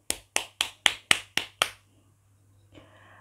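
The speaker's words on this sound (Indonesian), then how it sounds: "Yang bersuka cita pagi ini, tepuk tangan bersama Kak Sherly." Hands clap for a children's Sunday school group: seven crisp, evenly spaced claps in quick succession, close and sharp, followed by near silence and a faint rustle.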